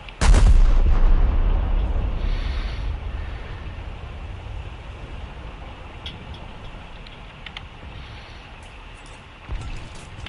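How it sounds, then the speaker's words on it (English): Ship guns fire a full broadside in the War Thunder naval combat game, opening with one heavy booming blast that rolls off into a long fading rumble, followed later by a smaller distant thud. "Full broadside. Ready. Fire."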